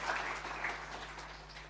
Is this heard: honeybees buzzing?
no